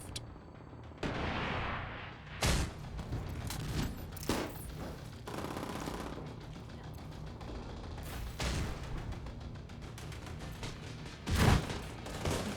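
Gunfire in The Division 2: heavy weapon shots boom at intervals over a steady mechanical background, several separate loud blasts spread across the stretch, with no talking.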